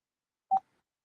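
A single short touch-tone beep from a home phone keypad being dialed, clear and isolated against silence.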